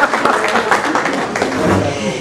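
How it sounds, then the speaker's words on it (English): Audience applause at a lunch gathering, a moderate wash of clapping from many hands filling the room, with a voice talking over it. "I think that deserves an applause."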